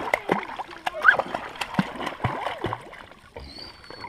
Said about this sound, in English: Oh, you're splashing me.